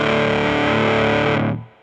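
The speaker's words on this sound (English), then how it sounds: "Here's another one with some fuzz settings." Ernie Ball Music Man Cutlass HT electric guitar with heat-treated pickups through heavy fuzz, a thick, loud, saturated chord sustained for about a second and a half before abruptly muted.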